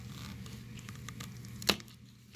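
A plastic sheetrock anchor is cut shorter during a ski binding repair. A single sharp snip stands out near the end over a faint steady background hum, with no talking.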